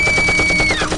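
Rapid machine-gun fire bursts out loud and close as a sound effect, a fast, dense rattle of repeated shots filling the whole moment.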